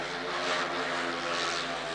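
Speedway motorcycles in a Polonia Bydgoszcz versus Apator Toruń league heat race around the track, a continuous loud engine drone with steady harmonic whine and no voices.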